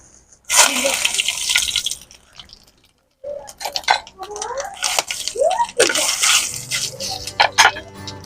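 Whole spices (bay leaves, dried red chillies, cumin seeds and whole garam masala) hit hot ghee in a pan, giving a bright crackling sizzle that surges, pauses, then returns under a talking voice.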